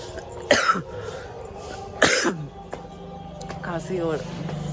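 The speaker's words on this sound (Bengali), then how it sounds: "কাশি আসছে।" A person coughs sharply in two bursts a little apart, close and loud, with a quieter throat-clearing later, at night in a home room with faint background noise.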